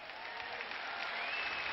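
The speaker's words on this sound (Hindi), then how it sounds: "हाँ चलो महिला मन ताली बजाओ भाई" An audience of women claps at a church sermon, a dense, even patter of many hands that holds steady and slightly swells over a short stretch, with a faint tonal hum running underneath.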